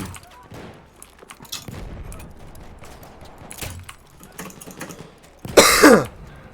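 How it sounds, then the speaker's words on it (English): A person coughs close to the microphone, a sudden loud burst near the end that follows quieter, scattered background noise. "I apologise for my coughs, viewers."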